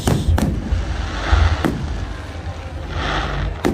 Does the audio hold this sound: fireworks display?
yes